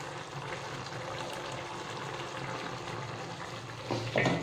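Ghee and fenugreek mixture frying in a pan on medium-low gas, a steady dense sizzle close by that swells briefly near the end.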